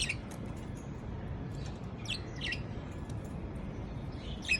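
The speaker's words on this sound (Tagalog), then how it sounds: "ang ganda ng lovers na ibon" Faint high chirps and tweets from lovebirds come in scattered short bursts over a low background hum, with no talking.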